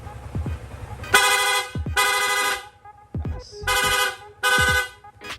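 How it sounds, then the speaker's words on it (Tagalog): A Sniper 155 motorcycle horn blasts in rapid bursts, several pulses in a row with short gaps between, close by over a low engine idle. "Lolong press lang po natin itong horn switch, yung busina ni sir."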